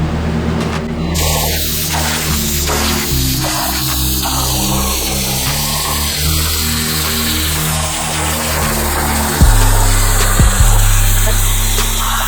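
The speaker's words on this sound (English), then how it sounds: "So air definitely helps with plasma. So now let's get it cut." A plasma cutter run on air slices through a metal plate, giving a steady loud hiss and buzz with a pulsing low hum, then a brief shift in tone near the end as the cut finishes.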